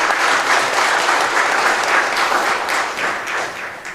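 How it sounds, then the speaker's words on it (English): Audience at a high school FFA jacket ceremony gives a sustained round of applause, dense steady clapping from many hands that fills the room and tapers slightly at the end, with no talk over it. "A big round of applause for yourselves."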